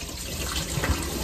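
Cassava is rinsed under a running tap, giving a steady, close wash of flowing water with faint splashes and no talking.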